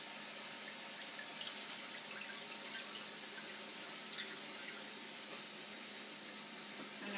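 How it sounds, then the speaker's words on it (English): Water runs steadily from a kitchen tap into a cooking pot, a faint, constant rushing hiss with no change over the whole stretch. "I'm going to add some water to this."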